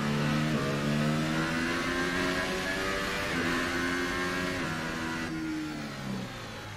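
McLaren Formula 1 car engine in F1 2018, racing through Monaco, a loud high-pitched whine climbing steadily and snapping down with each gear change, shifting several times before easing off near the end.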